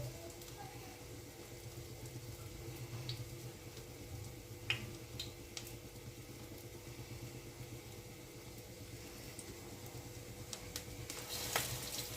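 Corn cutlets deep-frying in rice oil give a steady, soft, close sizzle with a few faint pops and clicks scattered throughout.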